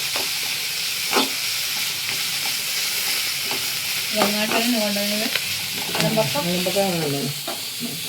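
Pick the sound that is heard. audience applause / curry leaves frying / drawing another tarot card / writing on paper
curry leaves frying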